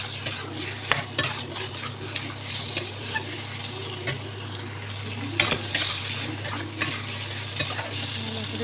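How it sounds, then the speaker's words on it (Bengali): Chicken pieces stirred in a spice masala of turmeric and Kashmiri chili powder, frying with a continuous sizzle and repeated scraping strokes and light clinks against the pot, close and steady. "এবারে মাংসগুলো দিয়ে দিয়েছি। ভালো করে নেড়ে চেড়ে"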